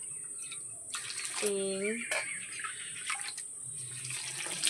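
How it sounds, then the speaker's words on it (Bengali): Bowlfuls of water are poured into a pot for hand-mixed khichuri with rice and lentils, giving short splashing pours and gurgles under a woman counting aloud in Bengali. "মোট 7 বাটি জল দিলাম।"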